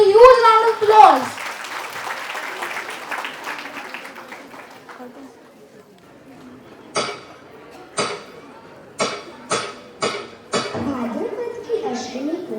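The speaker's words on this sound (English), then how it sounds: "Please welcome them with a huge round of applause." Crowd applause at a school annual day event swells and fades, then a handful of sharp, separate claps ring out near the end.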